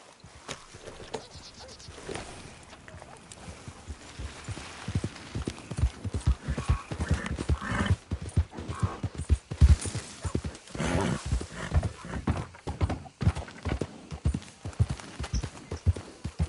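A horse in the Red Dead Redemption II video game gallops in a steady rhythmic clip-clop of hooves that grows louder and denser, with a brief whinny and a faint voice in the background.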